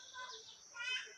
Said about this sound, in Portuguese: na minha varanda, ouvindo pássaros cantando